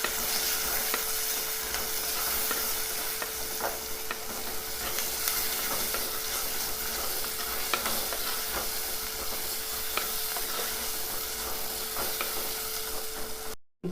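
Egg curry masala with salt simmers and sizzles in a pan, a steady close hiss with occasional light stirring clicks throughout, no voices, ending in a sudden cut.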